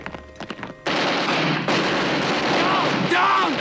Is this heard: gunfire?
yes